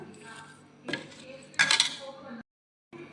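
Spoon stirring crushed chilli into mango pickle, with a few short clinking scrapes against the container and a brief silent gap near the end.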